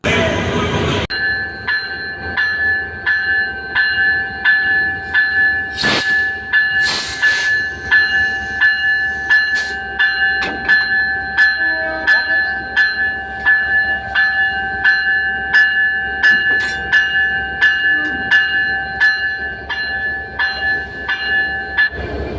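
A metro train rolls past close by with rhythmic clacking of wheels over rail joints, a steady ringing tone above the rumble, continuing loudly throughout.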